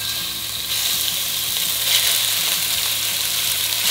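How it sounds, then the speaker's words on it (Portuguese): Beef sizzles in hot olive oil in a pan, giving a loud, steady crackling fry close by with faint stirring scrapes and no talking. "Coloquei o azeite na panela, agora a gente vai entrar com a carne."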